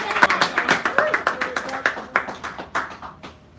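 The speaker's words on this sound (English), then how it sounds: "Give a round of applause." A small audience at a café poetry reading gives a short round of applause, sparse and distinct individual claps close by, thinning out toward the end, with talk mixed in.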